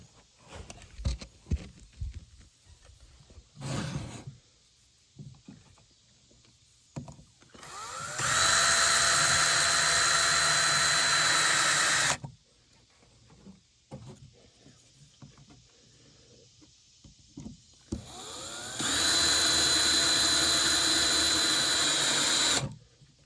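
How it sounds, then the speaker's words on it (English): A power drill bores a spade bit through a wooden deck joist in two sustained, loud whirring bursts of about four seconds each, separated by quieter handling knocks and shuffling at a lakeside deck. "I'll need that spade bit for the joist."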